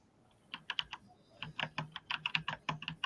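Someone pounds hard on a computer keyboard, a rapid, uneven run of crisp key clicks close by, with a brief pause before the typing resumes at a quieter room level.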